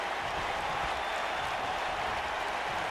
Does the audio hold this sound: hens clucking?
no